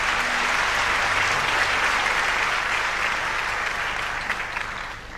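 Dense, steady applause from a large audience at an event honoring Pakistan Air Force officers. It is loud and continuous, easing slightly toward the end.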